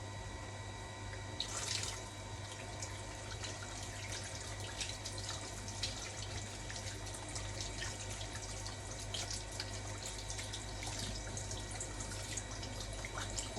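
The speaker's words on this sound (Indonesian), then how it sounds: "Lalu kita bilas." Hands are rinsed under a running tap at a sink, a steady close stream of water splashing throughout with no talk.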